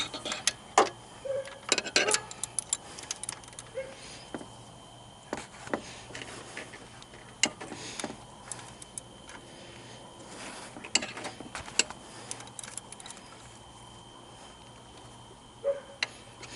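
A 15mm wrench ratchets out the long idler pulley bolt, which also holds the alternator, on a Chevy Impala with a 3.6L V6. Sharp metallic clicks and ticks come in irregular clusters over a steady low hum, close by and alone.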